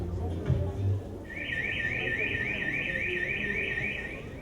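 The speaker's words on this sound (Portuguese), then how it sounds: "Ao ouvir o som do alarme, siga a sinalização e dirija-se com segurança à saída de emergência mais próxima" A building's emergency evacuation alarm starts after a moment of low background noise and then warbles steadily in a rapid, repeating electronic pulse, moderately loud.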